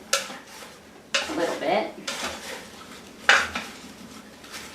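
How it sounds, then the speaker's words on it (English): A big spoon scrapes and clanks against the metal Instant Pot insert while stirring apples and cinnamon, with several sharp knocks and softer scraping in between, as a voice speaks briefly. "I'm going to take a big spoon, if I can find one, and just stir this around to kind of distribute the cinnamon"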